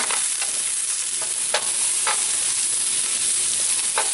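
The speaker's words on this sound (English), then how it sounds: "we're going to go ahead and give these another little stir" Carrots and garlic sizzle on a grill, with a few scraping stirs cutting through a steady, loud frying hiss, and no voices.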